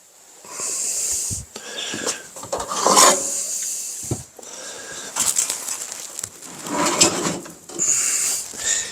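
A piece of wood is ripped to take five inches off, heard as several close, harsh rasping strokes in bursts separated by short pauses.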